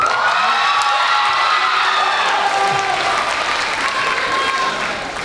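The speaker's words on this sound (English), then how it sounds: "One more round of applause, please" Sustained applause from a large pageant crowd with some cheering and whoops, steady and loud throughout before easing slightly at the end.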